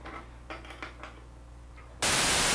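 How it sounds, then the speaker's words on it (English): Moog synthesizer noise generator output, a quiet stretch with faint background speech that suddenly gives way to a loud, steady broadband hiss sustained through the end. "Could you switch back and forth between white and pink?"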